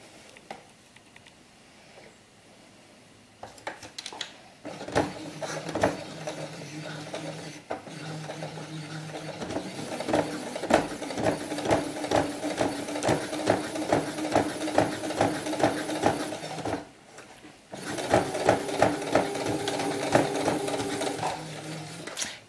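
Sewing machine with a leather needle straight-stitching down the side through several layers of sheepskin and fur, running in rapid mechanical bursts with short pauses between, close and clear.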